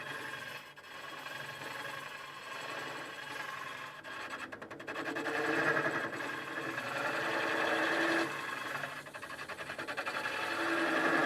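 A hollowing tool chatters and bounces against spinning wood on a lathe, a continuous buzzing rattle that swells louder midway and stays dense and close throughout.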